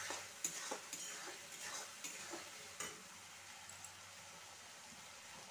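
Chopped tomato goes into a sizzling pan while pea pulao is being cooked, with a faint frying hiss and repeated light spoon scrapes and taps as the pieces are stirred.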